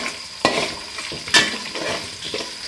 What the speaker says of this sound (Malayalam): അതൊന്ന് നന്നായിട്ട് ബ്രൗൺ കളറായി വരണം ഇതിലേക്ക് ഞാൻ കായ കട്ടയും കൂടി ഇട്ട് കൊടുക്കുകയാണ്